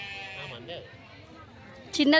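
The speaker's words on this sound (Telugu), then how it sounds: "ఇది ఆ మేక ఇది మందేనా" After a few moments of quiet chatter, a goat lets out one short, loud bleat close by at the very end.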